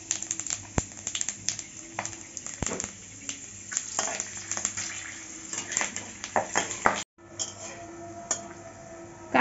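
Green chillies and panch phoron sputter in hot mustard oil for a lemon pickle, a steady close crackle with scattered sharp pops and spits, briefly cut off near the end before resuming.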